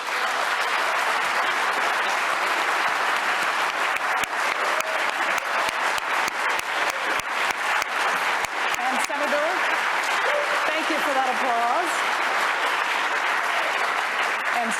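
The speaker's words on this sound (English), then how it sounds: "They've agreed to hold their applause until the end of the debate, except for now as we meet the candidates" Sustained audience applause at a televised US Senate debate as the two candidates are introduced, a dense, steady wash of clapping lasting throughout, with faint voices underneath.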